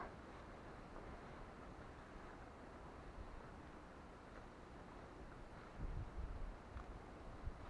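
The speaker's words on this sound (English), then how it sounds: "Sorry it's a bit windy, can't be helped, we are on top of a hill." Steady wind on a hilltop rushes and buffets against the microphone, a broad constant roar that swells slightly near the end, with no voices.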